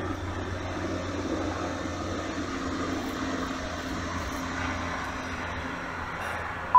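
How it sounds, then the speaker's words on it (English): Helicopter flying overhead on an island, a steady droning engine roar that holds constant and fairly loud throughout, with no talk. "I've never had more helicopters buzz over my head in an hour."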